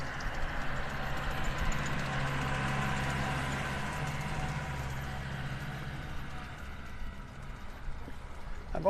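Tractor engine running on a beach in North Naples, Florida, a steady low rumbling drone heard at moderate distance under wind and surf noise.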